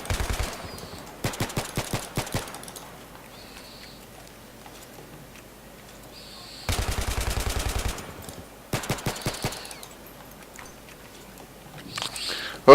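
Gunfire and grenade blasts in the video game Battlefield 3: rapid bursts of automatic fire come in several short clusters, sharp and mid-distance, separated by quieter stretches of in-game ambience.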